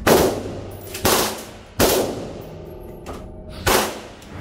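A machine gun fires at a shooting range in Orlando, with four separate loud sharp bursts spaced about a second apart, each dying away between shots and no talk over them.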